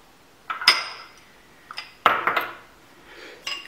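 Spoon clinks against a bowl while a mixture is stirred for mini pizzas and Turkish pastries, a few sharp metallic taps in scattered bursts, close and fairly loud, with no talking.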